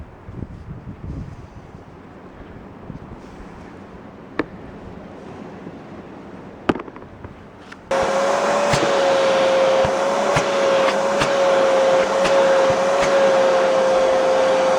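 A Ridgid WD30500 wet/dry shop vacuum, fitted with an old filter, switches on partway through and runs with a loud, steady whine and rushing airflow after a quieter stretch of faint background noise and a few knocks.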